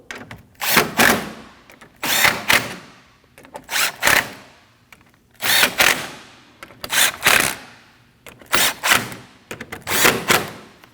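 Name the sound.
tightening 10mm bolts above the grill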